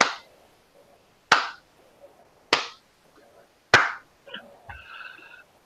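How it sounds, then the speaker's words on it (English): A slow clap from a balcony: four sharp, isolated hand claps spaced about a second apart, crisp and reverberant in a quiet space, followed by faint shuffling and a brief tonal sound. "From one of the balconies, you hear the slow clap start"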